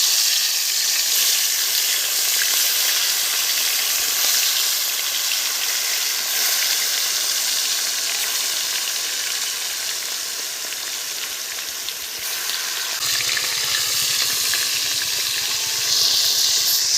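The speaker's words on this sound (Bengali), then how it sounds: "মাছগুলো এখন ভেজে নেব।" Large pond-caught fish frying in very hot oil in a home kitchen, a loud, steady sizzle and hiss throughout with brief softer dips and stirring sounds, no talking.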